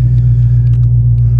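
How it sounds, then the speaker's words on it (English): A Shelby GT350 on E85 with a Lone Racing tune and light exhaust work idles warm, a steady deep rumble close by with faint rhythmic pulsing and no talk. "this is a warm start. The car had already been idling for a little while before this"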